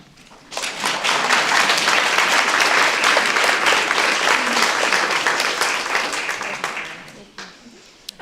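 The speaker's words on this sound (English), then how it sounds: "how about another round of applause for this graduating class?" Applause for a graduating guide dog class at a livestreamed ceremony, a loud sustained burst of clapping lasting several seconds before tapering off near the end.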